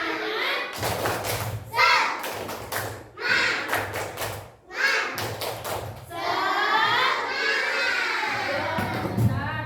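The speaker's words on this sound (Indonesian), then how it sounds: "Kita tepuk semangat dulu ya." Children in a classroom perform the tepuk semangat, a rhythmic clapping chant, with bursts of claps and voices in a steady pattern, then a sustained swell of excited kids' shouting near the end.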